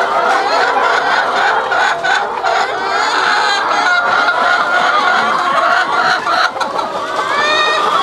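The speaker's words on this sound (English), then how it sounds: "These are all laying hens?" Laying hens cluck and squawk in a crowded henhouse on an organic farm in the morning, a dense continuous chorus close by with a few louder honking calls standing out.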